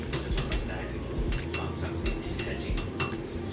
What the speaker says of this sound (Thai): จะมีเสียงการปรับจังหวะรีบาวที่ดังชัดเจน